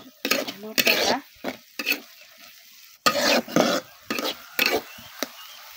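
Bottle gourd peel bharta with shrimp is stirred and fried in a pan: repeated loud, close scraping strokes of a utensil against the metal, in uneven bursts over a faint sizzle.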